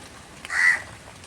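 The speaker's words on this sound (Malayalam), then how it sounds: "കാക്കകളൊക്കെ അവിടെ ഇവിടെ ഇരുന്ന് കരയുണ്ട്" A single crow caw rings out briefly at middle distance over a steady hiss of rain falling during a heavy downpour.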